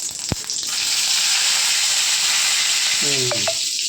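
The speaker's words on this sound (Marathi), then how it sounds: "छान फोडणी पडली." Cumin seeds and curry leaves hitting hot oil for a tempering, a sharp loud sizzle that bursts in after a clink and stays dense and steady, with a brief voice near the end.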